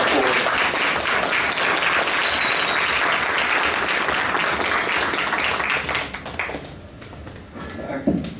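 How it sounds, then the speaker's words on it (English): An audience at a 2018 repatriation and investment conference in Ghana applauds in a steady, dense roar of clapping that fades out after about six seconds. "Let's give him a round of applause."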